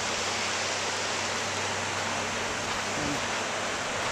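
Rapids on the Portneuf River, a loud steady rush of churning water filling the whole scene without pause, close by.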